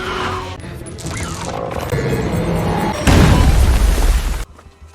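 A loud explosion as a raptor is blown up with a log in a film, swelling into a heavy low boom around three seconds in, then cutting off sharply into quiet near the end.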